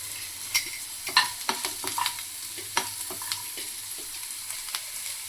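Onions fry with a steady close sizzle for jowar rava upma, broken by frequent scraping stirs of a spoon against the pan, no voices.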